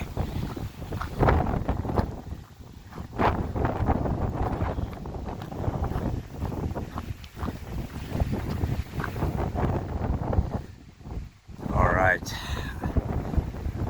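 Strong wind on a hiking trail in Mallorca buffets the microphone in a constant loud roar, with gusts rising and falling and a brief lull near the end.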